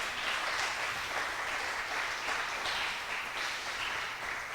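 A church congregation applauds during a Spanish-language Christian sermon, a steady, dense wash of many hands clapping that holds evenly throughout at moderate distance.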